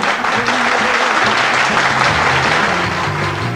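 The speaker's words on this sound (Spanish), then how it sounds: "Fuertes aplausos." Applause from a studio audience on a Uruguayan television interview program, a dense, even roar of clapping held at full strength from start to finish with a low murmur beneath it.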